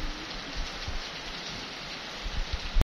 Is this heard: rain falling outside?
yes